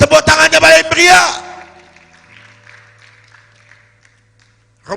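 A brief, loud burst of audience applause in a church, dense for about a second before fading into a long near-silent stretch with a faint low hum.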